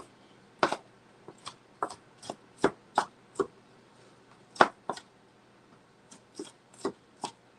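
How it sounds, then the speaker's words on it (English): A knife chops the inner layers of onions on a board in a home kitchen, a dozen or so sharp, close taps in uneven bursts separated by short pauses. "I'm just chopping up these insides of these onions so I can add it to the mixture here."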